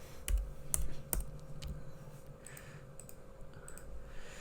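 Typing code on a computer keyboard, with several sharp, distinct key clicks early on followed by lighter, irregular tapping, close and fairly quiet with no talking.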